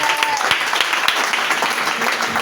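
A church congregation applauds in a dense, continuous wash of clapping that stays loud and steady throughout, with voices faintly mixed in.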